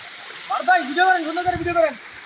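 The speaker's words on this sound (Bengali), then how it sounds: "এদিক দিয়ে বিশাল গভীর নিচে আরেকটা ঝর্ণা" A waterfall at Singcha Para, Maratila, Panchhari in Khagrachhari plunges into a deep pool, a steady broad rushing wash that sits low beneath someone talking throughout.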